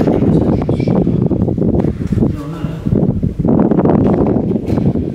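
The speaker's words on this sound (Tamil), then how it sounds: "வெளியே காத்தடிக்குது" Loud, continuous wind buffeting the microphone in rough, roaring gusts, with a brief lull midway and no clear voices.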